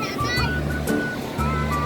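Sea waves wash onto a beach with a continuous surf rush and swells rising and falling, while people talk and call out close by over the water noise.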